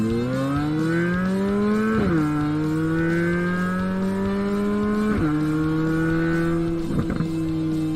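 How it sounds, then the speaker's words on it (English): A deep, steady Corvette Z06 exhaust, tuned for a mean sound, drones and climbs in pitch through gear changes, with brief dips at each shift, loud and continuous with no talking. "The exhaust has been carefully tuned to create a distinct, mean sound."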